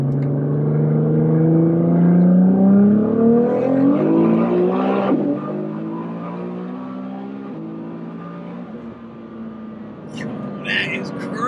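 An 1100-horsepower Nissan GT-R engine accelerates hard, its loud droning tone climbing steadily in pitch before settling into a steady roar, heard from inside the car with voices at times.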